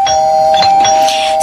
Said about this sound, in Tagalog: Ito, meron doorbell.